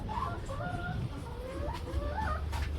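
Chickens cluck and murmur continuously in a small 10 by 6 foot backyard coop, with several overlapping calls close to the listener and a low background rumble.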